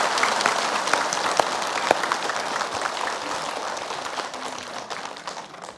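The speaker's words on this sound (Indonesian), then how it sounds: "Tepuk tangan dulu." An audience breaks into sustained applause at an Islamic talk show as a guest is welcomed, a dense wash of clapping that stays fairly loud and slowly thins toward the end, with a few sharper claps standing out.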